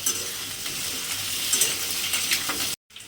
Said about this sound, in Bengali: দিয়ে এবারে সবজিগুলো আমি একটু লাল করে ভেজে নেব।